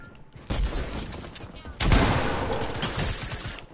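Gunfire in Fortnite, bursts of rapid shots that jump sharply louder about halfway through into a dense, noisy barrage, with a voice faintly under the shots.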